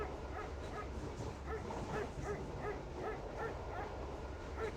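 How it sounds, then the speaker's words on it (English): Repeated dog barks and yips from the game The Last Express, moderately distant and steady in rhythm, sounding over a low background ambience throughout. "get away from that barking dog?"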